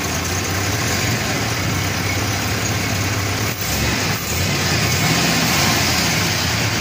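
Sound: original 1957 Chevrolet 283 engine idling with new carburetor

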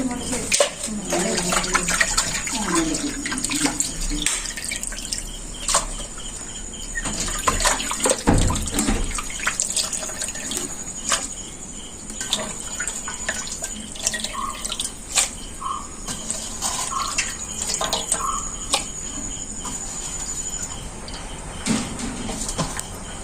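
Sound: washing food pieces in running water

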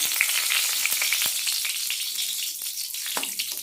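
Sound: bay leaf frying in hot white oil in a wok

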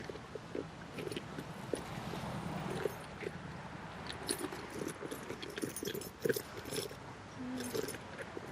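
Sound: keys jangling

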